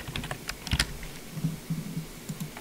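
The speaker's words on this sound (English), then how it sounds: "Then type in the display name." Keystrokes on a computer keyboard while entering a display name in a mod upload tool, a quick irregular run of close, soft clicks with short pauses, alone.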